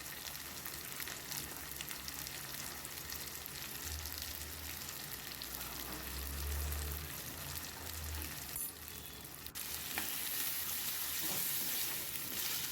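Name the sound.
tomato and coriander powder masala frying in oil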